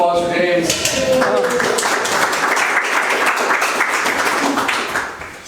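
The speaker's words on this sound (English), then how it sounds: "Round of applause for James" An audience applauds for a speaker leaving the stage, a dense, sustained wash of clapping that carries on steadily before starting to fade near the end.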